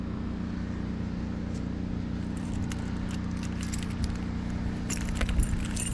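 Keys jangle as they are pulled from a pocket during a riverside walk, bright metallic clinks building toward the end over a steady low rumble of water and outdoor noise.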